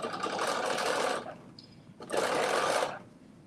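Sewing machine stitching a seam, two sustained close runs of rapid whirring about a second each, separated by a short quiet pause.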